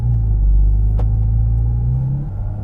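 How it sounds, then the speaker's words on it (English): A Porsche GT4 RS engine rumbles loudly and steadily up close from right behind the cabin, with a brief click and a drop in pitch near the end like a gear change. "you definitely hear all the shifting, all the engine noise right behind your head"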